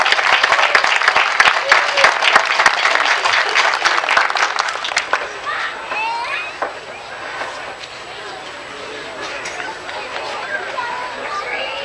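Audience applause for a guest conductor at a Poky Muni Band concert: dense, loud clapping for about five seconds, then it thins into quieter crowd murmur and scattered room noise.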